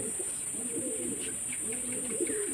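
Pet pigeons kept at a home coo softly and repeatedly in low rolling calls, with a steady high hiss behind them.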